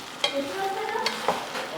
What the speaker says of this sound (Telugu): ఓకే, సో ఒకసారి కలుపుకుందాము.